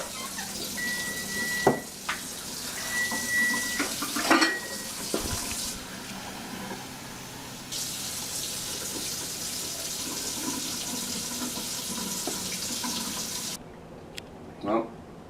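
Water running from a newly installed under-sink water filter faucet into a kitchen sink, a steady splashing stream with a few clinks and knocks, shutting off near the end.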